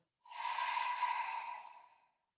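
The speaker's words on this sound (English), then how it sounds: "Open mouth, exhale, let it go." Long, steady open-mouthed exhale during a yoga class, a soft breathy rush lasting about two seconds, close and fairly quiet with no talking over it.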